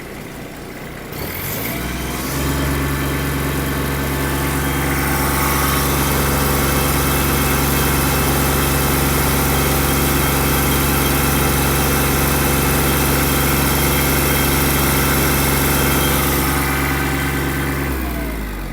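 The 1100 cc diesel engine of a Japanese Kubota GB-20 mini tractor starts up and runs steadily at raised revs, loud and close, with a constant throbbing drone before cutting back.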